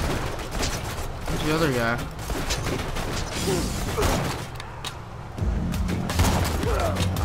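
Gunfire in the video game Borderlands 2 comes as rapid mechanical shots and clattering bursts mixed with game effects, while a player talks briefly over the action.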